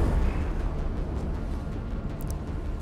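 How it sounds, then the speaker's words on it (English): Distant gunfire and muffled explosions in the video game Mass Effect Legendary Edition rumble as a steady low wash of battle noise, with a few faint pops standing out. "There's gunfire going that way."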